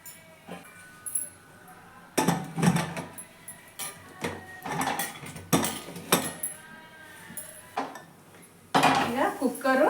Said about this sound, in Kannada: ಈಗ ಲಿಡ್ ಹಾಕಿ ಮುಚ್ಚಿಬಿಡೋಣ